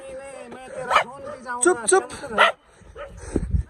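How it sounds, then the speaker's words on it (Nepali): A dog lets out a string of yipping, whimpering barks that sound jackal-like, close and loud in bursts, while a person speaks briefly over it. "स्याल जस्तै कुकुर रहेछ यो चाहिँ।"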